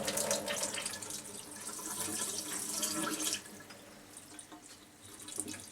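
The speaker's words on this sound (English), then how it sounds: "we're just going to run some water through the hose" Water gushing steadily through a kitchen faucet hose into a sink, a continuous splashing rush that eases slightly toward the end.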